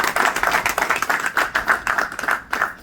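Crowd applause at a May Day celebration in an office, rapid dense clapping from many hands, close and continuous for a few seconds with no talk.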